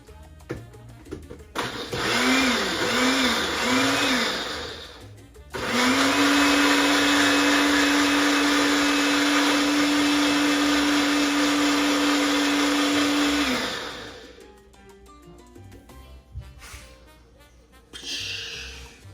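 A Ninja blender whirs loudly at close range blending chile sauce for tamales, revving in short pulses before a long steady high-speed run that cuts off abruptly, followed by clattering.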